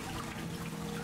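Running water in the sci-fi horror game SOMA, a steady close wash of flowing liquid with a low hum beneath, continuous through the short moment with no talk.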